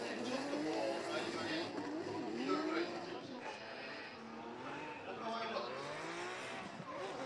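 Drift car tires squealing at Okayama International Circuit during Formula Drift Japan qualifying, a sustained wavering screech with engine roar throughout, while a commentator talks over it.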